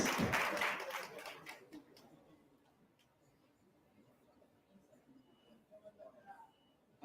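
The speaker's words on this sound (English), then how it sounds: "Let's give him a round of applause." Audience applause at a poetry slam swells loudly at the start and quickly dies away to near silence, with a few scattered claps and faint room noise afterward.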